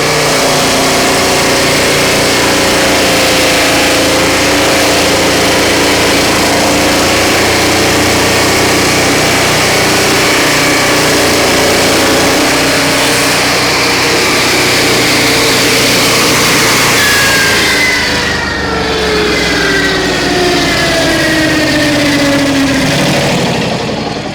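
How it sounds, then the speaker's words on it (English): Portable Turbosawmill cutting through a knotty log gives a loud, continuous engine drone under load, holding steady for most of the stretch before the pitch shifts and sags slightly near the end, with no voices. "this log is full of knots, so you just got to listen for the knots and slow down as you approach them"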